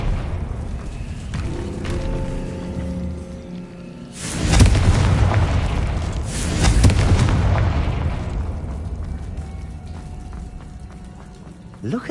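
Confringo spell explosions in the Hogwarts Legacy game, two heavy booming blasts a couple of seconds apart with long rumbling tails, over quieter background game sound.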